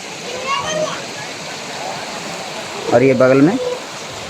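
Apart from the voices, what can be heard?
waterfall near a resting stop on pilgrimage route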